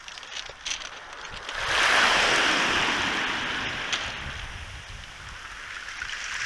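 Ocean surf washing in with the incoming tide on the rocky Maine coast near Quoddy Head, a broad rushing wash that swells after a quiet start and then settles into steady churning noise, with wind.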